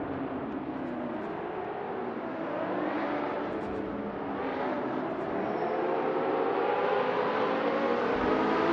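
Engine of a 1971 Ferrari 512M race car in a racing video game, a steady, sustained roar that rises gradually in pitch as it accelerates, loud and continuous with no talking.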